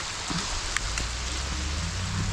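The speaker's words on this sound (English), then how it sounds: "It's been raining since we got here." Rain falls over the Beaver Lake tailwaters in a soft, even hiss, steady and unbroken, with no one speaking.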